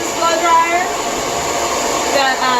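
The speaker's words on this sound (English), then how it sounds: "So far I really like this blow dryer." A Lange Soleil hair dryer runs with a steady, powerful whoosh of blowing air, fairly loud and close, holding an even level throughout without pauses.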